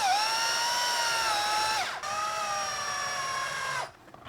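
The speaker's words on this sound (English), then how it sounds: "Now I can go around and put in the rest of the screws." Power driver sinking screws into a two-part slip casting mold, two long whining runs with the pitch sagging as each screw tightens, each ending abruptly, close and loud with no talk.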